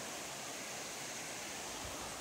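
River water flowing near Rivers Edge in Portland gives a continuous, even hiss of rushing water. It is fairly faint and unchanging, and no voices or other sounds cut through.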